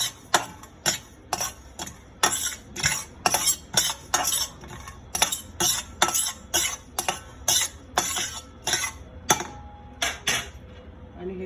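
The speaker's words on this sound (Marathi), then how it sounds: "आता त्याला ड्राय मसाला सगळं रोस्ट करून घेऊया." Dry masala spices being roasted in oil in a pan while a spoon stirs and scrapes, giving a steady string of sharp metallic clinks and scrapes at an uneven rhythm, close and fairly loud.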